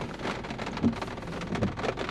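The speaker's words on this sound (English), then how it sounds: "that's rain dropping on the roof" Rain patters and spatters on the roof of a Peugeot 3008, heard from inside the car as a dense, close, irregular drumming with no talking.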